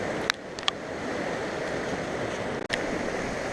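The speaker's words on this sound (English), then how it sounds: "Stream's caused by that nice big waterfall." A mountain stream fed by a big waterfall rushes steadily along a hiking trail, a constant broad wash of water with a couple of brief sharp clicks over it, no voices.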